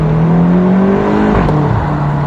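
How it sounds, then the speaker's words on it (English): A BMW X6 M F86 SUV revving hard, its exhaust note climbing in pitch to high revs, then dropping off and settling, loud and close with no voices. "you have to get the revs quite high to actually hear that exhaust note"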